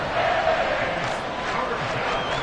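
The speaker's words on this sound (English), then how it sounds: "Well, this crowd into it now." A football stadium crowd roars and cheers during a 49ers at Dolphins game, a broad sustained swell of noise with a commentator talking over it.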